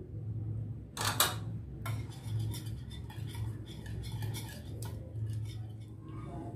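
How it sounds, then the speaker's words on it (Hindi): A spoon clinks against a bowl while spices are stirred together for Lahori chicken chargha, giving a few sharp taps followed by softer scraping and light clinks over a low steady hum. "इन तमाम अज्जा को मैं अच्छी तरह से मिक्स कर लूंगी।"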